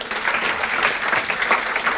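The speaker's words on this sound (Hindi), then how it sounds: "एक बार जोरदार तालियां उन बच्चों के लिए" Brief burst of classroom applause from students during a CA Foundation law lecture, steady dense clapping at moderate loudness.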